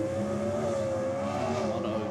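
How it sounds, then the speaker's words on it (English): A Camaro drag car holds a loud, steady high-rpm engine drone at the start line of a dragway, a continuous raspy roar with slight pitch wavering. "Bring the RPM up when he's ready."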